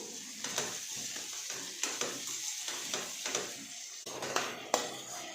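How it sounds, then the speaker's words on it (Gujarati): Finely chopped spinach is stirred into masala frying in a pan for paneer gotalo, a soft continuous sizzle broken by repeated spatula scrapes and stirring knocks. "હવે આપણે તેની અંદર ઝીણી સમારેલી પાલક નાખીશું"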